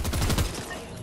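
A rapid burst of gunfire from The Joker video game, a quick string of several sharp shots in about half a second, loud and close, fading into a short tail.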